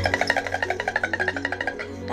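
A performer imitates horse hooves, likely on a bowed string instrument, producing a quick, even run of about twenty clip-clop pulses that fade out over two seconds, close and alone.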